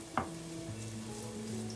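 Chopped onions hitting a pan of frying ginger and garlic, a soft sizzle with a brief clatter as they go in, then a steady low bubbling hiss at moderate level.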